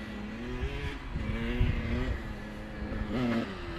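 A dirt bike engine with a carburetor being adjusted revs up and down in short, rising bursts over a rough idle, close by.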